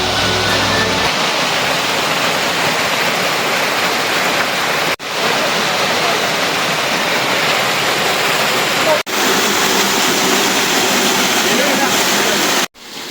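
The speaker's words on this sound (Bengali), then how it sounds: "পাথারিয়া রিজার্ভ ফরেস্ট এলাকায় অবস্থিত এই সুন্দর ঝর্ণাটির নাম রামাকুণ্ড ঝর্ণা" Ramakunda waterfall in the Patharia reserve forest roars as a steady, loud wash of falling water, continuous and close, with a few abrupt brief cutoffs along the way.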